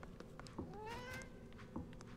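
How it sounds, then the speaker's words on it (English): A cartoonish cat meows in a hack-and-slash video game, one rising, wavering call in the middle of the moment, heard over steady game music and background sound. "Hello, kitty cat."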